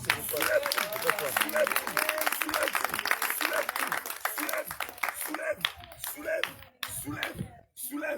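A church congregation claps and applauds during a deliverance worship service, dense sustained clapping that thins into scattered claps toward the end, with voices calling out over it.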